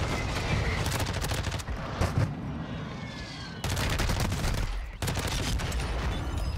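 Rapid gunfire rattles from behind in a fast-paced shooter video game, bursts of automatic shots coming in several clusters with brief pauses between them, moderately loud against background game noise.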